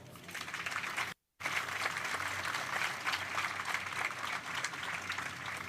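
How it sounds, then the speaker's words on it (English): Applause rolls through the crowd at an elementary school ribbon cutting ceremony, a steady clapping that runs throughout with a brief cut near the start. "I'd like a round of applause."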